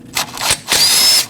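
A power tool whirs in two short bursts while backing out a 10mm ABS sensor bolt on the rear wheel knuckle of a 2014-2023 Jeep Cherokee, close and loud, with a brief pause between runs.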